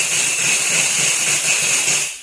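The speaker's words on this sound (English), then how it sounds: "give it some steam now and purge the water out of" A DeLonghi ECC221 espresso machine's steam wand purges water with a loud, steady hiss of steam, close by and continuous, that cuts off at the end.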